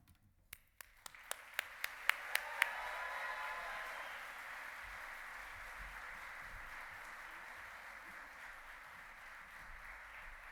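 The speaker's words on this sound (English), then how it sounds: "let's give our first group of luminaries another great round of applause" A banquet-room audience at an awards luncheon breaks into applause, beginning with a few sharp individual claps before swelling into a sustained, moderately loud wash of clapping that slowly thins out.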